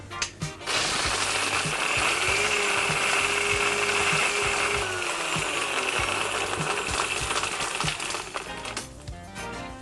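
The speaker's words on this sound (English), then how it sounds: "On with the lid and on with the blender for about 8 to 10 seconds." A blender mixes a strawberry daiquiri with ice, churning loudly for several seconds with rattling and grinding, then stopping, close to the listener with no talk over it.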